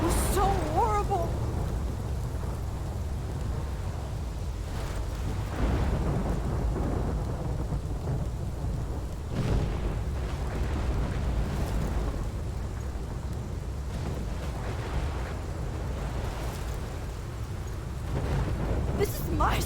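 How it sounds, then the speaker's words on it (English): Heavy thunderstorm in the video game Life is Strange, a loud continuous roar of rain and rumbling thunder with sharper cracks, with a voice speaking briefly near the start and end. "This is my storm."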